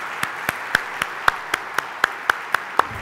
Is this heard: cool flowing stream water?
no